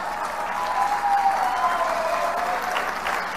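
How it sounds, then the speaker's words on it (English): An audience at a health talk claps together in steady, moderately loud applause that holds evenly through, with a faint background tone and no speech. "You can clap now if you want."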